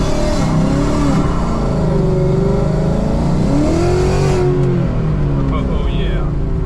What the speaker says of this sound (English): You guys can hear that exhaust.